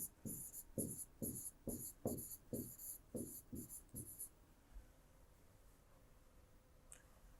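Pen or pencil strokes on paper during a maths lesson, about nine quick scratchy bursts in a steady rhythm, close and fairly quiet, then a faint pause with a soft tap near the end.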